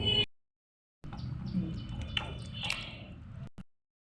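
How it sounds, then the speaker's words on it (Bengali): Cucumbers are washed by hand in water, giving soft squishy sloshes and small drips at close range, with short bursts separated by silence and no voices. "শসাগুলো এখন ধুয়ে নিতেছে।"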